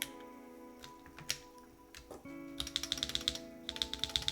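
Keys clack on a custom-built Dune65 mechanical keyboard, first a few scattered taps, then a quick run of sharp, close keystrokes under a steady hum.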